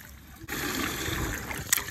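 Water poured from a bucket splashes onto plush toys, a steady close pouring wash that starts abruptly and runs on, ending in a brief sharper splash.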